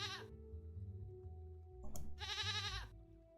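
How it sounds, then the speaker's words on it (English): A goat in the video game Rusty Lake: Paradise, kept by an old lady in a forest, gives two short wavering bleats, one at the start and a longer one near the end, over a low game soundtrack. "that's a lovely goat."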